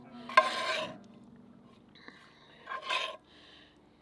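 Meat dropped into a pan of pumpkin filling for savory pumpkin pies, two short bursts of sizzling and scraping separated by a quiet stretch with a faint low hum, close by and without talk.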